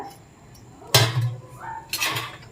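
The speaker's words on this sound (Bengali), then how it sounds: "রান্না শুরুর প্রথমেই আমি এখানে মোচাটা জল সমেত দিয়ে দিচ্ছি আর সাথে দিয়ে দিচ্ছি ছোলা ভেজানো ছোলাটা" Banana flower with its water and soaked chickpeas tipped into a cooking pot, two loud close bursts of clattering, splashing contents against metal about a second apart, with quiet pauses between.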